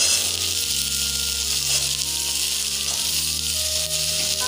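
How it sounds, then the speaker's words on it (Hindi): Potatoes hit hot oil in a pan and set off a loud, continuous sizzle that holds steady throughout, close up, with a low background hum and no voices. "इसमें हम डाल देते हैं आलू"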